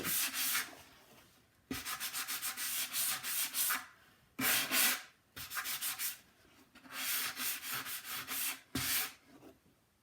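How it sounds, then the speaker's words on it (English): Wood is sanded by hand with a sanding block, going with the grain, in rapid back-and-forth rasping strokes in several bursts separated by brief pauses, close and clear. "Get that sanding block, and I'm going with"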